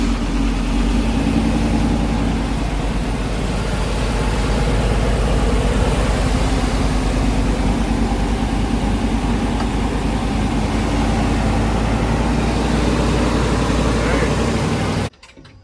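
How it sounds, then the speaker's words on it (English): A Ford F-150 truck's freshly rebuilt engine idles steadily and loudly nearby, a continuous low rumbling drone that holds evenly before cutting out abruptly at the end. "The truck is running."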